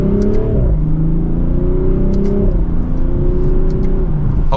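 A 2024 BMW Z4 M40i accelerates hard in sport mode from second gear, the engine note climbing loudly and dropping abruptly at each quick upshift, repeated about three times in steady succession with no talk.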